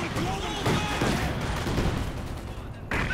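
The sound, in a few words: mortar and machine gun fire, Company of Heroes 2 video game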